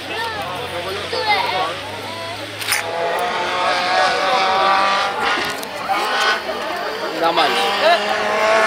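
Rally cars race through the 2013 Baja Portalegre 500 near Sousel, engines roaring and rising in pitch across the whole stretch, with someone talking over the motor noise.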